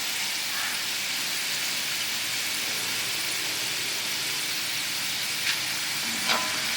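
Chana dal frying in hot bubbling oil, a steady dense sizzle with soft crackling throughout, plus a couple of faint clicks near the end, with no voices.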